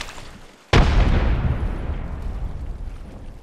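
A frag grenade in the video game Apex Legends goes off with one sudden, loud boom after a quiet moment, then a long rumbling decay trails away with no speech.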